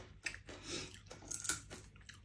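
Crunchy breakfast food being chewed close up, a series of crisp, uneven crunches over a little more than two seconds.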